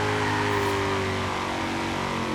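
Shelby GT350R engine in the racing game Forza Horizon 3, roaring loud and continuous while drifting in third gear, its tone sliding slightly downward across the short stretch, with no talk.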